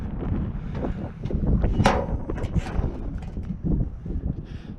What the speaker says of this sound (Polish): Dobra, za duży wiatr. Za duży wiatr.